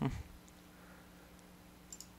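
A single mouse click while a user selects View Data in an AVEVA Wonderware InTouch application; one short, close click at the start, then near silence with a faint tick later.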